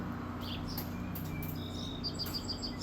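A small bird chirps faintly in a backyard, giving scattered, high, quick tweets over a quiet, steady outdoor hum.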